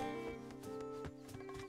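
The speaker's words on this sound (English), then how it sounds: "Oh, there are horses." Horses in the video game Zelda: Echoes of Wisdom, with repeated neighs and whinnies over steady clip-clopping hooves, loud and close against a continuous game music bed.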